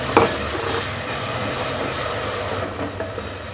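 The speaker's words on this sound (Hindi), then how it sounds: "हम प्याज को उस वक्त तक फ्राई करेंगे जब तक कि इसका कलर थोड़ा सा गुलाबी सा ना हो जाए।" Onions frying in a pan with garlic-ginger paste for a chicken and cauliflower curry, giving a steady, dense sizzle with light stirring, fairly close and continuous throughout without talk.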